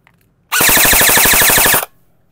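An HFC airsoft rifle, the LE2 model rated around 500 FPS and running on a weakening battery, fires one loud, rapid full-auto burst of about a second and a quarter, its evenly spaced mechanical cracks running together with nothing else audible.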